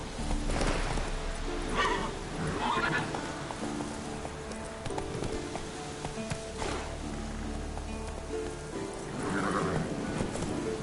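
Roach, a horse in The Witcher 3, gallops with rhythmic hoofbeats under game music, broken by a couple of whinnies and snorts, moderately loud and close.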